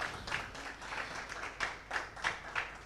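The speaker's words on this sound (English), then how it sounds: "Please give her a round of applause" An audience at a primary healthcare lecture on hypertension management gives a faint, distant round of applause for a presenter, the clapping swelling in uneven bursts.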